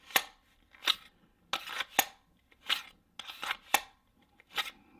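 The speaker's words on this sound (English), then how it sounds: "It's a considerable amount of noise. Not just holstering, but also on the draw." A gun being drawn from and reholstered in an older plain kydex G-Code holster gives about eight sharp, scraping clacks at an irregular pace, close and fairly loud, with no talk.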